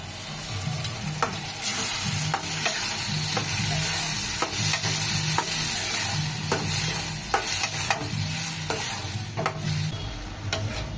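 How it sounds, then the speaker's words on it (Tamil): Garlic sautés in a hot pan for a garlic kuzhambu, a steady sizzle of frying running throughout with repeated scraping stirs of a spoon against the pan, close and fairly loud, with no talking. "இப்போ நல்லா வதங்கிடுச்சு பூண்டெல்லாம்"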